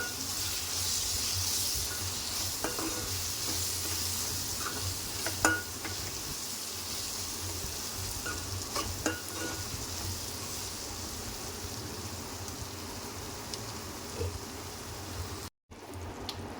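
Turmeric, ginger and green chilli sizzle steadily in a pan while being stirred, a continuous frying hiss with soft scraping and occasional clinks throughout, no talking.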